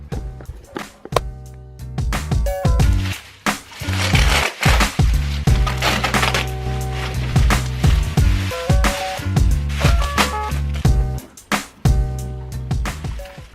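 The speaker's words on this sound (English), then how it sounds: "after about 25 minutes of trying to unwrap that plastic wrap, we finally got it out" Stiff plastic wrap crinkles and tears as it is pulled off a new rear car wing fresh from Japan. The rustling, crackling bursts come close and loud, with short pauses in between, and no one speaks.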